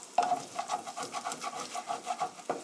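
Garlic and onion stir-fried in a pan, with a steady run of soft scraping strokes from a utensil against the pan and light frying underneath, close and fairly quiet.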